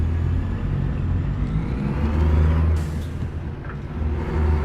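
A heavy truck's engine brake rumbles low and loud from inside the cab in American Truck Simulator, driving in Texas, with a steady deep drone that swells and eases over a few seconds.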